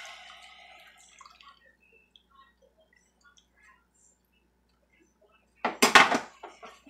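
Dishes and cutlery are rinsed in a kitchen sink. Faint drips and small taps are followed by a sudden burst of loud clattering and clinking near the end.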